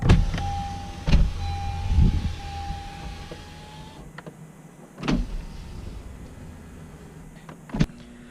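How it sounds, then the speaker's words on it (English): Power windows on a 2016-or-later Honda Civic Hatchback whirring down in a garage, several motor runs of a few seconds each punctuated by sharp clunks as each window stops, close and loud, no talk. "open up all the windows all the way down"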